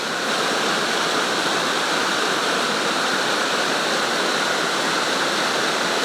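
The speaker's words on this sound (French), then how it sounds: "cette magnifique cascade qu'on appelle la" The Bout du Monde waterfall roars in a dense, constant rush of falling water, loud and unbroken throughout.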